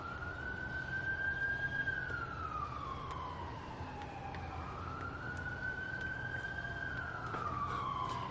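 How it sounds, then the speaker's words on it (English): Police car siren wailing steadily through a slow rising and falling sweep, fairly distant and continuous, over a low background rumble in a small town street. "You hear the police sirens?"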